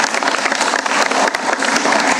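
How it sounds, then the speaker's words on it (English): Applause from an audience in a council chamber, a dense, steady wash of clapping that fills the whole moment at close range, with no talk over it. "I think we should give her a round of applause."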